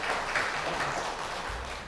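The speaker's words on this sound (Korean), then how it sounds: "우리 다 같이 박수하시죠" A church congregation applauds during a Sunday afternoon service, a dense, steady wash of many hands clapping together at moderate volume with no talk over it.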